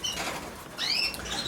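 Colour canaries flutter in a cage with brief wing flaps, along with short high chirps from the birds nearby.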